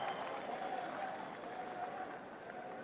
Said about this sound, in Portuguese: O público aplaude o Eric Trump,